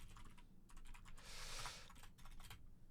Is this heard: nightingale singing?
no